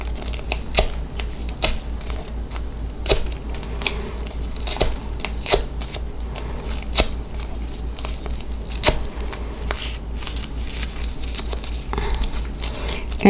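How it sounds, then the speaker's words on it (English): Paper flower petals are curled with a bone folder in a quiet craft session, producing a string of crisp, irregular scraping and crinkling ticks spread throughout, close and moderately loud, with no talking. "I'm going to grab the center of my flower, and I'm just going to go ahead and curl these edges up with my bone folder"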